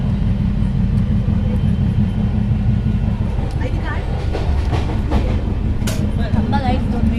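A Konkan Railway passenger train runs at night with a steady, loud low rumble and rolling wheel noise throughout, with faint rattles and squeaks from the sleeper coach riding on top.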